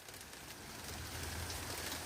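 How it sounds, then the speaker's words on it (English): Heavy rain from a supercell storm patters and hisses steadily on surfaces nearby, a dense, even wash of drops at low level with no voices. "It's raining hard."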